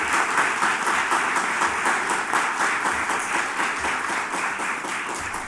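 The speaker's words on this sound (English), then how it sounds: "Please give them a round of applause as well." Sustained applause from an audience at a governor's official portrait unveiling, steady and dense throughout, moderately loud with no talking over it.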